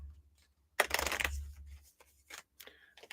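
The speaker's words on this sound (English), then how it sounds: "That was an interesting shuffle there" A deck of tarot cards is shuffled once in a brief, quiet riffle of rustling card noise, followed by a few soft scattered handling sounds.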